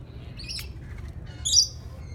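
Birds at the Denver Zoo give a few faint, high squawks and chirps while being fed, over a low steady background rumble.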